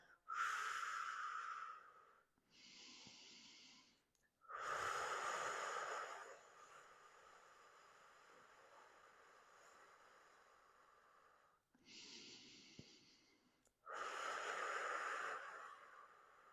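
Breathing during a pelvic floor and deep core exercise, a series of slow, airy exhales and inhales, fairly close and soft, repeating in a steady rhythm.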